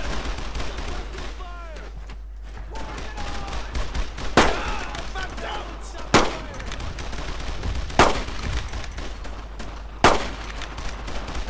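Gunfire in the World War II shooter Brothers in Arms: Road to Hill 30: rapid rifle and machine-gun bursts with several sharp loud shots at regular intervals, over a rumbling battle background and distant shouting voices.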